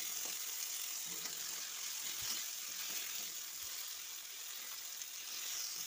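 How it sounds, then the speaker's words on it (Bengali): Chopped tomatoes frying in hot oil for a rohu fish curry make a continuous soft, bright sizzle, fairly quiet and even throughout, with faint stirring knocks now and then. "ভালো করে, লাল লাল করে ভেজে নেওয়ার পর এবার আমি টমেটো কুচিয়ে দিয়ে দেবো"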